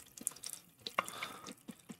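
Pre-mixed Long Island iced tea poured over ice, heard as soft splashes, drips and clinks of liquid on ice in a glass, quiet and intermittent over about two seconds.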